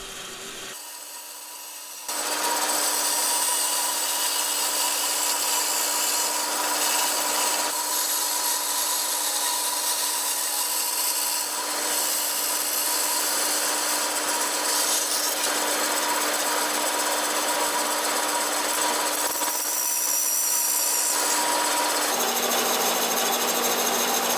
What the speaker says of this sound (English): if you have access to a bandsaw, it's just faster, not necessarily better